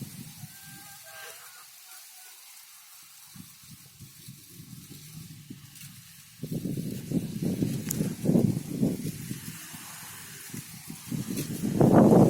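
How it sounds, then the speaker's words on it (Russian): Outdoor wind on a day with pigeons flying: soft airy hiss at first, then stronger gusts rumble and buffet loudly from about halfway, building toward the end. "Ветерочек есть, ветерочек дует."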